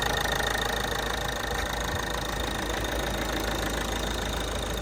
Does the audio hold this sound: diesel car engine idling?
yes